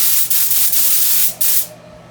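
A paint spray gun loaded with thinned paint, here purging water from the line, gives a loud, close, continuous hissing spray in several bursts with brief dips, cutting off near the end.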